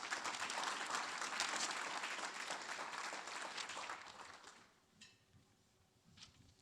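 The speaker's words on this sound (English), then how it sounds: "More applause, please." Audience applause at a Kansas City startup pitch competition rally, a steady, dense burst of clapping for about four seconds that tapers off, leaving a quiet room with a few faint knocks.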